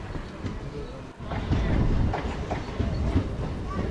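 A MEMU passenger train runs between Vijayawada and Bhimavaram near Undi station, with a continuous loud rumble and rhythmic wheel clatter heard from inside the carriage.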